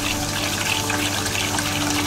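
Water running steadily into a pot of rice being washed by hand in a kitchen, a continuous close splashing and trickling with no voices.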